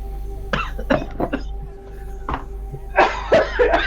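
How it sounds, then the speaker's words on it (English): A person with a persistent cough lets out a series of sharp, close coughs and throat-clearing bursts, spaced irregularly over a few seconds, against a low steady electrical hum. "This persistent cough is kicking my ass."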